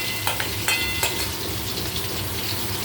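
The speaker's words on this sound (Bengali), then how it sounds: "পনিরটাও ভেজে নিচ্ছি।" Paneer frying in a kadai gives a constant close sizzle, with three sharp spoon taps against the pan early on and a steady crackling hiss after, no voices.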